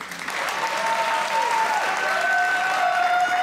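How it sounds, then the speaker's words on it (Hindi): Studio audience applause on a Pakistani comedy talk show, steady and dense throughout, with faint whistle-like tones running through it and no talk over it. "तालियां बजाएं"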